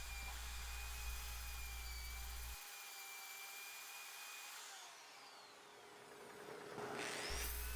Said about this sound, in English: Now it's on to sanding the outside,